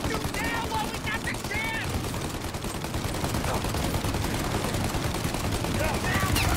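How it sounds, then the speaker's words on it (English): Rapid bursts of gunfire in a shootout in Mafia: Definitive Edition, dense and continuous throughout, with a voice shouting over the shots. "Shoot out their gun when there's a break in the fire!"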